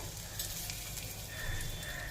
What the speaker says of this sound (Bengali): এবার এই তেল এই ফোড়নে দিয়ে দেবো তেজপাতা